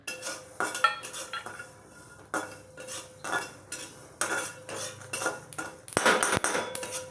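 Peanuts and sesame seeds dry-roasting in a pan for curry leaf chutney, stirred with a metal spoon: repeated scraping and clinking strokes against the pan in an uneven rhythm, close up, with a couple of sharper knocks near the end.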